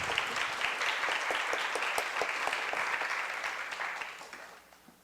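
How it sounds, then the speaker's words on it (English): Applause greets speakers coming on stage for an exhibition talk about Taiwan's pavilion at the 58th Venice Biennale; it starts brisk and full, then gradually thins and fades away at the end. "Now let's give a big round of applause to welcome the speakers to be on stage."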